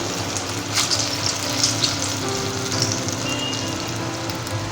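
Dahi vada batter dropped by hand into hot oil, a loud continuous bubbling sizzle with small rhythmic surges of crackle as the pieces fry.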